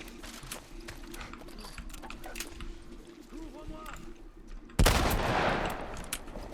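Gunfire in the video game The Last of Us, a burst of rapid shots and scattered pops followed by a loud, sharp blast with a ringing tail, heard close under and between excited talking.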